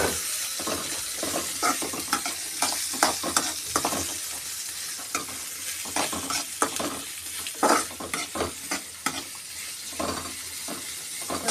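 Sliced big onions sauté in a pan for a dry fish curry, with a constant sizzle and repeated scraping and stirring strokes at an uneven rhythm, close and fairly loud.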